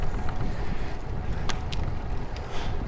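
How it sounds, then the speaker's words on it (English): Steady wind rumbling and buffeting outdoors at state fairgrounds, with gusts pushing against the microphone and a few faint thumps in the background. "It's really windy."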